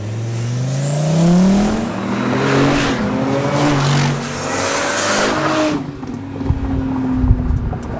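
A powerful sports car engine roars as it accelerates hard in a 0 to 200 mph run, revs climbing through gear shifts, then the sound drops away into rumbling road noise.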